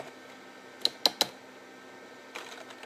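Three sharp clicks of a computer keyboard on a Compaq PC, struck in quick succession, then a short pause and a softer burst of lighter key taps near the end; close and quiet, no talk.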